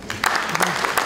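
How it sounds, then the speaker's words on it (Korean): An audience at a Democratic Party lawmakers' workshop applauds in a short, close burst of clapping, with a voice speaking over it. "다시 한번 뜨거운 박수로 당대표님께 전달해 주시기 바랍니다."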